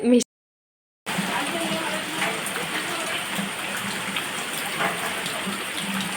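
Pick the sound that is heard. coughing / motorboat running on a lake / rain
rain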